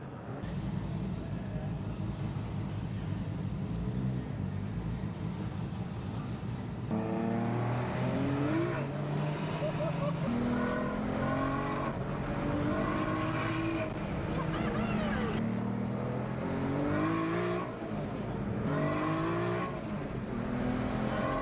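A Nissan C33 Laurel drifting, its engine roaring steadily at high revs with rising and falling pitch sweeps as the throttle is worked, loud and continuous throughout.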